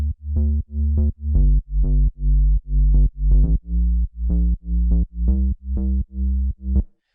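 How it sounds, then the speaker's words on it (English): Deep square wave synth sub bass plays a steady pulsing line of about a dozen separate punchy notes with short gaps between them, loud and dry with no voices. "We have a square wave for this particular sub bass that sounds like this"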